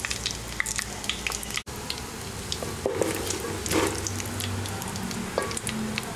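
Cumin seeds and bay leaves sizzle in melted ghee mixed with oil, giving a steady frying hiss dotted with small pops and crackles, with occasional stirring clinks.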